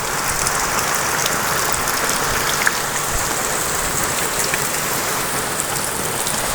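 Steady heavy rainfall drums over farm fields, an even, unbroken wash of close, loud hiss with scattered drop impacts and no one speaking.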